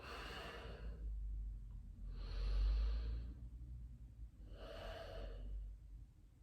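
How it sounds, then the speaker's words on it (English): Slow, deep breathing during a yoga class for lotus pose, with two long airy breaths alternating with quiet pauses, heard close and soft, with no talking. "Breathe in. When you exhale, let go."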